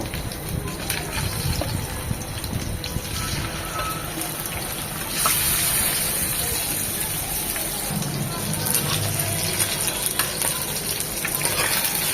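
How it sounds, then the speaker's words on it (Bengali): Meni fish frying in hot oil, a continuous bubbling sizzle filling the background while a person talks over it. "বাকি মাছগুলো ভেজে নেবো"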